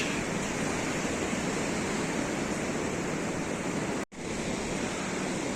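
Monsoon sea surf at Baga Beach in Goa rolls in as a dense, steady roar of breaking waves, loud and close with wind buffeting, cut by a brief dropout near the end; nobody speaks.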